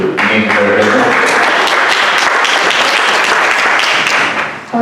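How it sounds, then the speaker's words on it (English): Audience at an all-candidates meeting breaking into applause, a burst of steady dense clapping that carries through and fades at the end, with faint speech underneath at the start. "I would invite you please to hold your applause."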